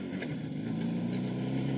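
A motorcycle engine hums steadily at a distance, a faint continuous droning buzz with no talk over it.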